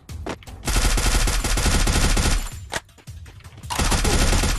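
Rapid automatic gunfire from the Free Fire video game rattles loud and close in long sustained bursts, broken by a short lull before another dense volley, with no talk over it.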